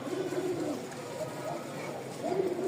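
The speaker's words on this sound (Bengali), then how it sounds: "ককা ডাক শুরু করে দিস" A male pigeon coos in a low, throaty warble, with two or three rolling phrases at close range and a faint murmur of room noise behind.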